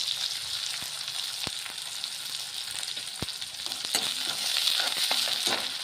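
Plain onions and green onions sizzle steadily in a hot oiled pan, with a constant bright hiss and a few faint spoon clicks from stirring, close and without talk.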